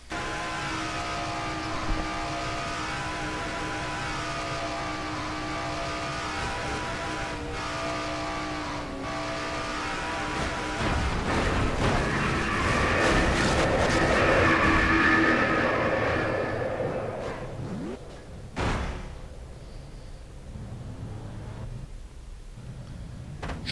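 A NASCAR race car engine in a video game drones steadily, then revs up and roars louder before fading away, with a few sharp clunks near the end.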